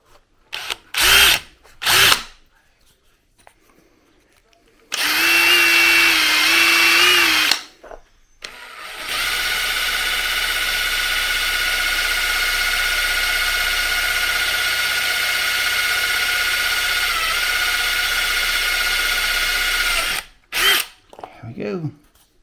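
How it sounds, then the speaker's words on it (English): A power drill drilling holes in wood whines loudly in two bursts, a short one and then a long steady run of about eleven seconds, with brief sounds between. "Time to drill the rest of the holes."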